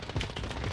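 A brief, muffled burst of distant gunfire in a battle royale game, several quick shots running together at moderate loudness.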